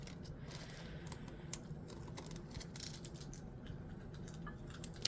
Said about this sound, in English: you rotate it and it sucks. It grinds.